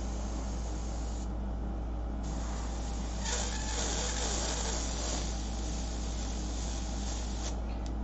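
An airbrush sprays paint with a steady, soft continuous hiss over a low hum of air, close by, its tone shifting slightly as the flow is adjusted.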